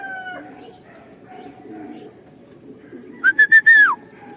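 A pet bird on a roof lets out a short burst of bright, falling whistled calls near the end, after quiet outdoor ambience with faint distant bird sounds.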